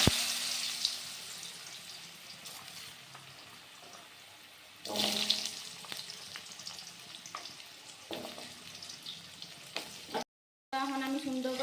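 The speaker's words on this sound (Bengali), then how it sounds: "এখন আমি সুন্দর করে ভেজে নিব।" Cut potatoes frying in a pan with a bay leaf and whole cumin seeds, giving a steady low sizzle with a few louder bursts and clatters as the pieces settle in the hot oil.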